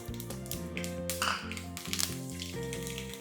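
Mustard seeds and fenugreek sizzle in hot sesame oil for an ingi kuzhambu, producing a close, steady crackling fry with scattered small pops, while a faint tonal hum runs underneath.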